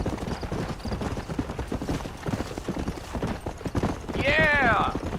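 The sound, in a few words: horse galloping in the video game Red Dead Redemption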